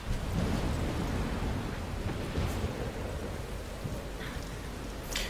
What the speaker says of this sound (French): Ça commence sous la pluie.